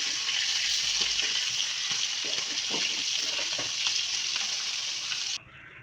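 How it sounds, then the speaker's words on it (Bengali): Fish frying in hot oil while being turned over in the pan: a loud, steady sizzle with scattered scraping and clattering taps from the flipping, cutting off abruptly near the end. "মাছগুলো একটু উল্টিয়ে নিচ্ছি উল্টিয়ে পাশাপাশি একটু ভালো মতো ভেজে নেবো"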